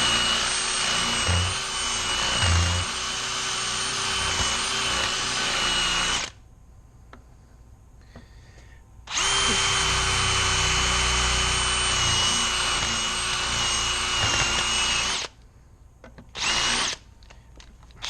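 A power drill whines loudly drilling off rivet heads on a GMC motorhome control arm, in two long bursts of about six seconds each, separated by quiet, followed by a brief final burst.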